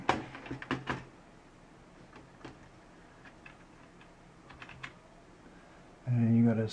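A computer keyboard gives a brief burst of clicky typing at the start. After that come a few sparse, faint taps over a quiet background, and a louder humming tone rises near the end.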